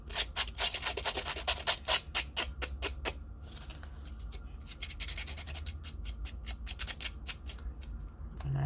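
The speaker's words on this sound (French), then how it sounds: "Donc, je fais avec les ciseaux." Scissors scrape and rasp along paper to distress its edges for a matchbox advent calendar craft, a series of rapid close rubbing strokes for about three seconds, then quieter intermittent scraping resuming later.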